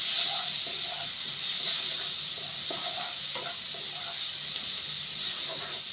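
Onion and garlic frying in oil in a pan, a steady close hiss and sizzle with faint scraping and stirring ticks throughout.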